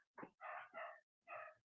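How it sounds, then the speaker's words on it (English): A dog barks three times at a distance, in sharp separated yaps with brief gaps between them, faint against an otherwise quiet background and with no talk. "there goes my dog right there."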